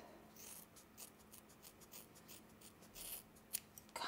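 Scissors cut through hair in a series of soft, close snips, repeated in an irregular rhythm over quiet background.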